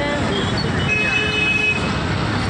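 City street traffic in Dahod, India, in rainy weather: a dense roar of engines and passing vehicles with scattered horn toots, loud and continuous, with a voice speaking over it.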